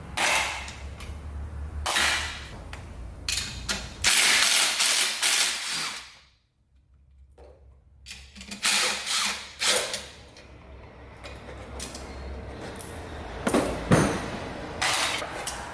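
Power tools work on 10mm bolts holding a coolant line bracket on a Jeep engine, with repeated whirring, ratcheting bursts of varying length, a short quiet pause in the middle, then more close, moderately loud tool runs.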